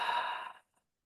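One audible exhale during a breathing exercise: a breathy, sigh-like rush of air close to the mic that fades out after about half a second, followed by silence.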